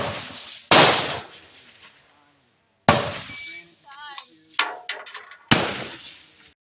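Rifle shots at a precision shooting match in Navasota, Texas: three loud, sharp reports spaced a couple of seconds apart, each with a long decaying echo, plus some brief clicks and handling noises between them.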